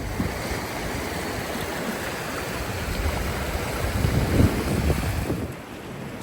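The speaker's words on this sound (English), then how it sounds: "The wind is howling, the river is roaring," Wind howls and a river roars outdoors in a continuous loud rush that swells briefly before easing near the end.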